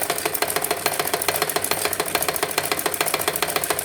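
A sewing machine stitches a hook-and-eye strip onto a belt blouse, its needle thumping in a fast, even rhythm that runs loud and close for the whole stretch with no talk.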